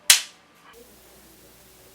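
A single sharp crack of a foley gunshot effect made for a war film, loud and abrupt with a short decaying tail, then near silence.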